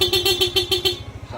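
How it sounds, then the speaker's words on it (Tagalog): A Yamaha NMAX V1 motor scooter horn beeps rapidly, about seven short even toots in quick succession, loud and close, then stops. "Busina naman ni Sir Corsa"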